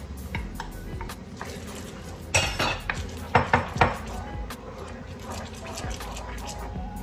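Jackfruit stirred into thickened coconut milk and sugar in a cooking pot for biko, a spoon scraping and knocking against the pot with a few sharper clinks in the middle, close and moderately loud.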